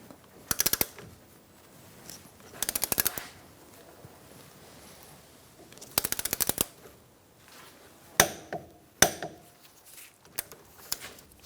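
Several quick bursts of ratchet clicking while tightening a ball joint on a 2012-2018 Ford Focus steering knuckle, close and crisp, with short pauses between runs and a few sharper metallic knocks near the end.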